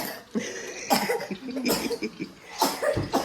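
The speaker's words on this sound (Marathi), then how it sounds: "खोकला आला" Several sharp coughs in quick bursts, close by, separated by short pauses.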